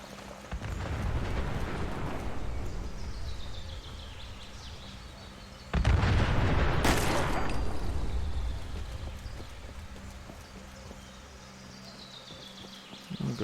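Explosions boom in the video game Fallout 4: a sustained rumbling blast swells, then a second, louder burst hits near the middle and fades into a lingering roar.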